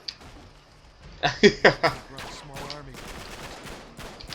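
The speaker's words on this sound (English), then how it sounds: "Who's he shooting at?" Gunfire in the video game Uncharted 3: four sharp shots crack out in quick succession, loud and close over a low game ambience, then the scene settles back into quieter background sound.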